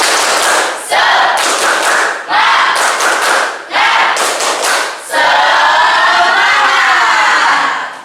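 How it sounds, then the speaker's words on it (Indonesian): Schoolchildren in a classroom perform a rhythmic spirit clap, loud bursts of clapping in grouped beats with short pauses, ending in a sustained wash of clapping and cheering voices. "kita tepuk semangat terlebih dahulu biar kalian semangat"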